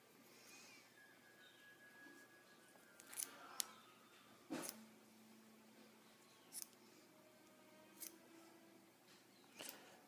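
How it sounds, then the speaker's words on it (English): Scissors snip excess fuzz from the tip of a coho fishing lure, with sharp isolated cuts spaced a second or two apart over a quiet, close background. "Then go ahead and trim off the excess"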